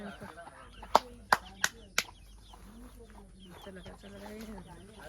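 A few sharp clucks from chickens ring out close by in quick succession, followed by quieter fowl sounds and murmuring voices in the background.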